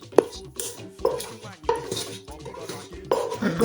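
Wooden spatula (eku) crushing pepper in a pot, giving a few irregular knocks and scraping clatters up close.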